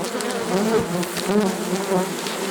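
Bees in a hive buzz loudly and continuously up close, an aggressive, dense droning swarm with pitch wavering as individual insects pass near.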